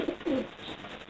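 A racing pigeon cock gives a short, close coo, two soft throaty pulses in quick succession followed by a fainter trailing note, heard alone.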